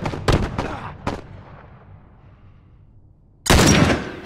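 Gunfire in The Last of Us video game: a burst of several loud, sharp shots close together early on, a decaying tail, then another loud blast near the end, with no talk over it.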